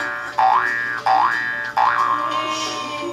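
A cartoon boing sound effect from iMovie on iPad repeats three times in quick succession, each a springy, wobbling upward twang, loud and clear with no talking.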